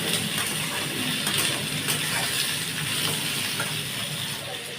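Pumpkin pieces fry in an oiled pan, giving a steady, close hiss of sizzling with faint stirring scrapes and no voices.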